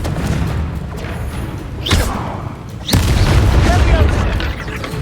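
Booming spell explosions in the video game Hogwarts Legacy, two heavy blasts landing about a second apart with rumbling tails over a busy combat soundscape, mixed with spoken incantations.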